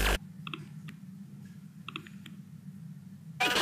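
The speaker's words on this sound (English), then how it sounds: "Here's the sound of the Force Touch trackpad action." Two pairs of crisp, quiet Force Touch trackpad clicks on a 2015 13-inch MacBook Pro with Retina display in a near-silent room, each a short double tap, followed by a burst of noise at the end.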